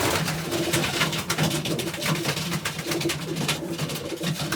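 A young pigeon coos inside a loft, repeating low, soft, rolling calls in a steady rhythm over a rustling background of nearby birds.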